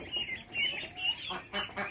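Pekin ducks quack and chatter together in a busy, nasal chorus of short calls, fairly close and steady throughout.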